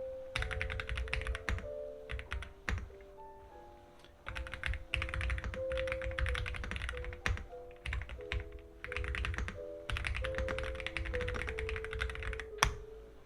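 Bursts of mechanical keyboard typing, rapid clacking keystrokes in several runs with short pauses, close and clear, with a faint tonal hum in the background.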